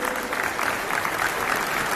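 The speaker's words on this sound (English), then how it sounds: "Can we have a huge round of applause for the management committee" Applause from an audience at a BNI business networking conclave, celebrating the management committee: dense, steady clapping filling the whole moment at a close, even level with no pauses.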